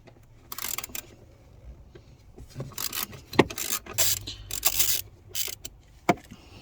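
A ratchet with an 8mm socket works the earth nut loose on a car while an insurance black box is removed. Quick, close bursts of clicking come in uneven spurts, and a few sharper knocks rise above them.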